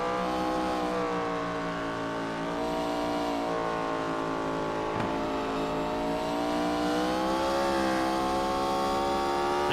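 Race car engine recorded onboard during a road race at Sonoma, a loud continuous high-revving drone with steady harmonic pitch shifts through gear changes and throttle, filling the whole stretch with no voices.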